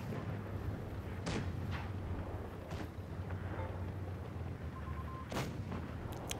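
Tank guns fire in World of Tanks Blitz, a few sharp booming shots spaced a couple of seconds apart over a low, steady engine rumble, moderately quiet overall.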